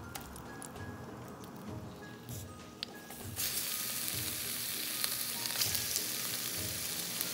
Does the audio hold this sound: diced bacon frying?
yes